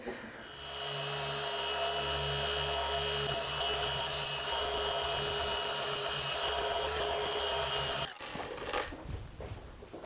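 A machine polisher works car hood paint with a steady, loud whirring hum held for about eight seconds, then it cuts off and leaves quieter handling noise.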